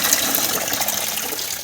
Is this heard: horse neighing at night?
no